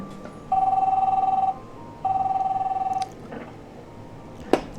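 Telephone ringing in The Darkside Detective video game, two long electronic trilling rings separated by a pause, followed by a short click as the receiver is picked up.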